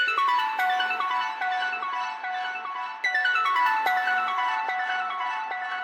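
A bright plucked synth patch from Serum 2, the Pluck Goosebumps preset, rolls down a repeating melodic pattern of short decaying notes, crisp and upfront, cycling twice without any voice.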